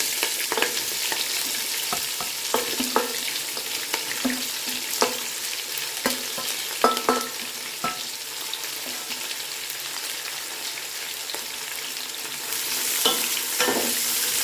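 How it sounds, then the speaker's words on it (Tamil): Sliced onions and green chilies fry in hot oil in a pan for vegetable brinji rice, with a steady close sizzle and repeated scraping stirs throughout; no one speaks. "2 பச்சை மிளகாய் அதையும் போட்டுட்டு வெங்காயமும் போடணும்."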